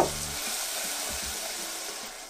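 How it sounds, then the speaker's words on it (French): Butter added all at once to hot caramel sizzles and spatters in a bright, hissing burst, fairly close and steady, with a few soft bubbling pops underneath as it settles. "vous voulez ajouter le beurre d'un seul coup. Et faites attention, ça éclabousse et ça va faire un bruit de grésillement"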